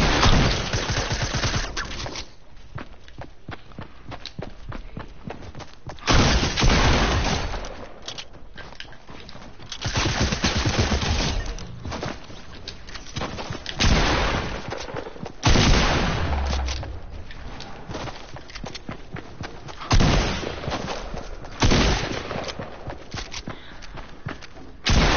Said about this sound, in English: My shots aren't hitting.